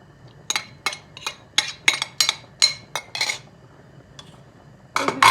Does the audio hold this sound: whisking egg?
yes